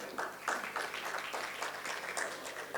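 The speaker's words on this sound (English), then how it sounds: "let's begin this panel discussion with a huge round of applause for all of them sitting here on the stage" Summit audience applauds the panel seated on stage at a menstrual hygiene event, with steady, fairly quiet clapping from a crowd that runs evenly throughout without talk.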